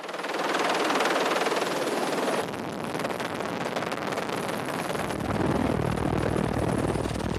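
A helicopter flies overhead in Mafate, Réunion, its rotor drone loud and steady throughout, dipping briefly in the middle before swelling again.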